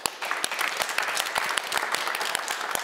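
Audience applause for a guest at a cultural talk event, a dense steady patter of many hands clapping close by with no voices over it.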